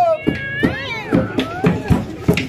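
An actor in an outdoor street play beside a highway imitates a cat, giving a string of drawn-out, wavering meows over regular rhythmic thumps, close and fairly loud.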